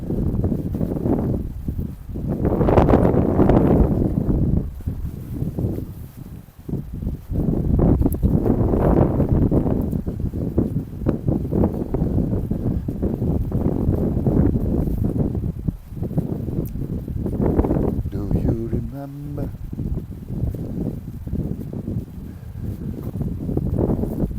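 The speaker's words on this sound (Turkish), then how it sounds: "Tabii şimdi göle yaklaştıkça bir rüzgar başladı." Steady, rumbling wind blows continuously outdoors near Burdur Lake, gusting up and down, with buffeting noise and a few faint clicks partway through.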